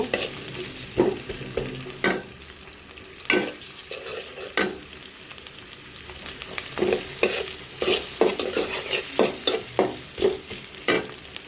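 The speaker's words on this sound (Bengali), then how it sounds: "নেড়ে দিব" Onions and green chilies fry in oil in a cooking pot under a constant sizzle, while a spoon scrapes and knocks against the pot in irregular strokes that speed into a quick run of stirring toward the end.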